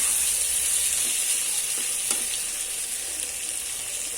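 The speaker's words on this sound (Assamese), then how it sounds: "এতিয়া আমি মাজে মাজে ভাজি থকাৰ পিছত যেতিয়া অকণমান বাকীখিনি মাংসও ৰঙা হৈ যাব" Pork pieces frying in their own rendered fat with a little salt, a steady close hiss and sizzle with only a few faint stirring taps.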